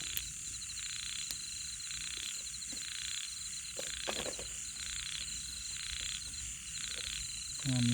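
Frogs croak steadily across a waterlogged field at night where frogs are caught with hooks, with insects and crickets trilling throughout at a moderate distance and a brief voice near the end.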